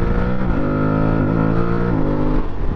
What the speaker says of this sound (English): There's the downshifts there.